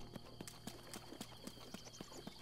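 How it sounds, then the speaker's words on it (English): Rhythmic clip-clop of horses trotting in The Legend of Zelda: Breath of the Wild, evenly spaced hoof beats at moderate distance over a steady ambient game bed, no talk. "Horses."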